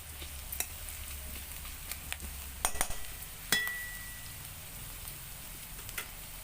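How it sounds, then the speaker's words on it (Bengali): Onions fry lightly in a pan with a soft, continuous crackling sizzle and a few sharp clicks of a utensil against the pan. "অল্প ভেজে নেবো।"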